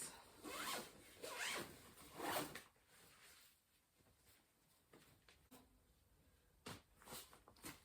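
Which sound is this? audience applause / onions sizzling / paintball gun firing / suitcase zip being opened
suitcase zip being opened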